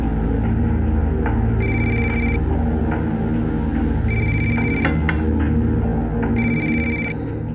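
A telephone rings in three separate electronic trilling bursts, evenly spaced over a steady, loud musical background, with no speech.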